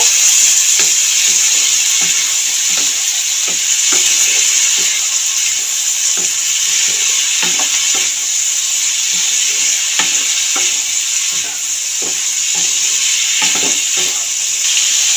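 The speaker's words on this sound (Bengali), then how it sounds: "মশলা ধোয়া জল দেবো একটু দিয়ে ভালো করে কষিয়ে নেব" Ground spice paste with turmeric and a splash of spice-rinsing water being fried down and stirred for a fig and prawn curry, a loud continuous sizzle with regular spatula scrapes throughout.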